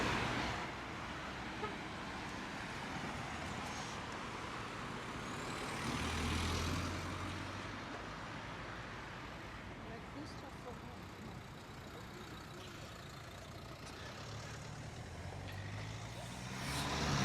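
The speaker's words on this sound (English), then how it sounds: "There's a lot of lanes of traffic here." Heavy road traffic with trucks on a multi-lane road in Tangier, a steady broad roar of passing engines with low rumbling swells that rise and fall throughout, loud and continuous.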